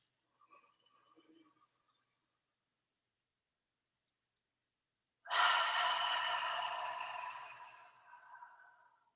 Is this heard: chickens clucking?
no